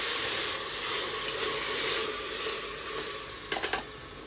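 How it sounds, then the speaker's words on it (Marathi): Garlic and spices crackle and sizzle in hot oil in a home kitchen pan, a continuous dense frying hiss with a few sharp pops near the end. "छान तडतडले."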